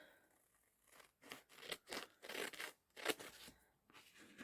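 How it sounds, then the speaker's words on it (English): Scissors snip and crunch through sticker material for a diamond painting kit, a series of close, quiet cuts in uneven bursts with brief pauses between. "I've got my scissors here, so I will just cut"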